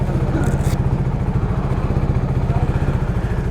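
Motorcycle engine pulsing steadily at close range with a low, even rhythmic throb, pulling away on a tour in Gilgit-Baltistan near Shigar Fort; no talk over it.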